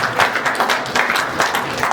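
An awards-ceremony audience at the New-Bell Diapo Awards in Montreal breaks into applause, a loud, dense wash of many hands clapping together without pause.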